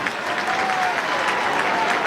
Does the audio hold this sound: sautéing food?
no